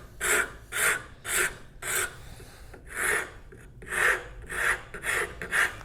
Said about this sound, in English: rasp work and smooth it up